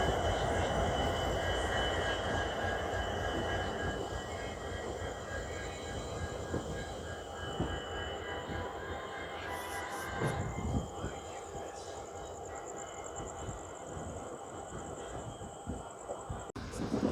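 Rumbling train running on Indian rails as it diverts across points onto the Guntur line, a steady broadband roar with irregular wheel knocks and clatter throughout, fairly loud and close, without speech.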